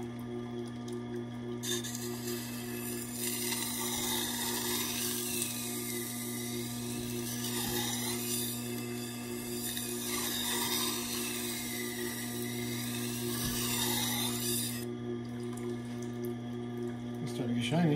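A stainless steel business card knife edge being sharpened, with continuous rasping strokes that swell and fade in a slow back-and-forth rhythm over a steady low electrical hum.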